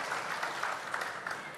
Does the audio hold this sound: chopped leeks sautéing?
no